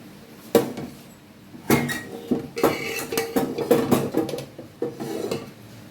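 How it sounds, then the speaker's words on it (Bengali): A metal spoon scrapes and clanks against a metal bowl in irregular bursts, a close, busy clatter of fried rice being moved, with no talking. "এবার আমি এটাকে ট্রান্সফার করে দেব আমার সেই গামলায়।"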